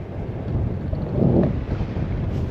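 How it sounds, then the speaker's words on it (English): A strong wind gust buffets a heeling sailboat on the River Crouch, a loud, steady roar of wind rushing past the microphone that swells briefly in the middle of the stretch. "Every now and again we get a really strong gust comes through and it really leans over."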